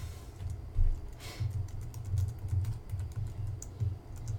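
Soft tapping on a small Mac keyboard hooked up to a PC, light irregular key clicks under a low background hum, close but quiet.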